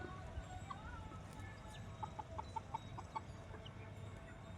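Turkeys and guinea fowl grazing in a garden, heard as faint, scattered clucks and short calls in a loose rhythm over quiet outdoor background.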